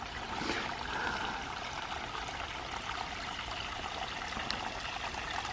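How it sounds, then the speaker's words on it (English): Water channel flowing down from the hills among tree roots outdoors in autumn, a continuous close trickling, gurgling stream with a brief splashy burst near the start and no talking. "Another water channel flowing from up on high."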